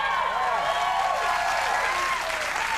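Studio audience cheering and applauding on a late-night talk show, a dense, steady roar of clapping and whoops filling the whole stretch at full loudness, with no talk over it.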